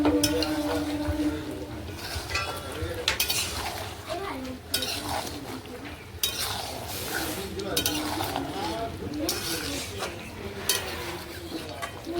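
Chicken curry with potatoes stir-cooked in a pan, with a steady scraping and clinking of a spatula against metal over a soft sizzle, continuing close by for several seconds with brief pauses.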